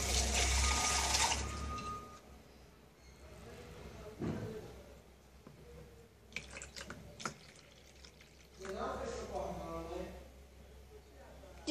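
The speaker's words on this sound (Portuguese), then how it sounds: "Só que eu vou colocar só mais um pouquinho de água comum." Water poured into a baby's bath, a brief rushing splash at the start followed by quieter drips and sloshing, with people talking softly over parts of it.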